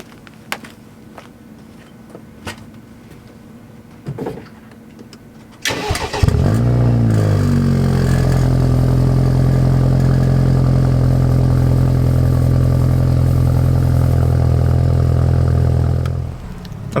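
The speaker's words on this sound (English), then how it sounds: "I'm gonna show you guys a cold start" A BMW 428i M Sport with its muffler removed cold-starts after several quiet seconds, a sharp loud flare giving way to a steady, deep, droning high idle that holds for about ten seconds before easing off near the end.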